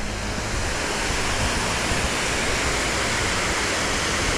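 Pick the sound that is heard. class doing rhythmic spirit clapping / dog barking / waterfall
waterfall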